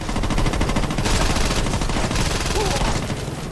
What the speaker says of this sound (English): let's take that assault rifle for a test drive.